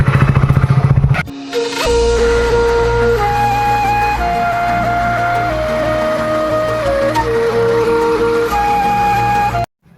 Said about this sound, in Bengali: আমরা সেই বাইক নিয়ে বেরিয়েছি বন্ধুর সাথে